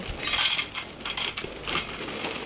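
Dry packaged soybean chunks poured into a bowl make a continuous crisp rattling clatter of many small hard pieces tumbling over one another, close and fairly loud, with no voices.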